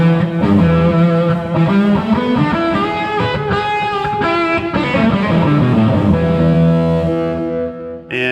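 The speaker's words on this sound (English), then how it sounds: "So what you're hearing is the 2 twins and the 2 Marshalls, and it's as loud as they go." Electric guitar roaring at full volume through two Fender Twin amps and two Marshall amps, a dense, distorted rock tone with sustained chords and bends, continuous and loud before cutting off near the end.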